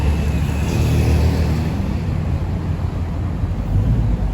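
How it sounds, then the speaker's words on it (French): A Ford Mustang Boss 5-litre V8 engine rumbles steadily at close range, a deep low drone with a slight rise in revs early on, under some wind noise. "écoutez le bruit sympathique qui se dégage de cette magnifique voiture"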